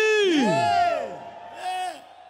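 At a country music show in the Barretos arena in Brazil, the crowd lets out loud whooping cheers and yells with sweeping, rising and falling cries, then a second, shorter burst of shouting.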